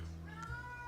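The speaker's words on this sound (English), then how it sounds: "So I hear that cat now" A cat meows softly in the background of a quiet indoor room, a faint, brief drawn-out call under a steady low hum.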